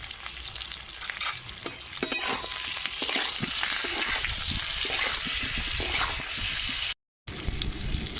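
Potatoes fry in oil seasoned with turmeric and salt, giving a steady, close sizzle that runs almost throughout, with a brief dropout near the end.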